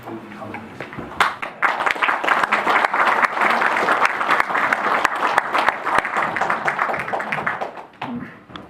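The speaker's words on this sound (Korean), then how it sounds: "여러분 홍명기 교수님 큰 박수로 맞이를 해주셨으면 감사하겠습니다" A lecture audience at a history forum claps to welcome a visiting professor, a dense, steady round of applause lasting several seconds before it fades out.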